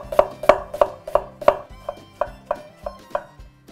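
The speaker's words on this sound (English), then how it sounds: "Slice this thin." A knife thinly slices onion on a cutting board in a brisk run of about eleven evenly spaced sharp chops, close and loud, with no talking.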